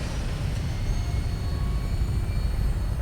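A video game aircraft takes off with a steady, loud, low engine roar that holds evenly throughout, with no talking over it.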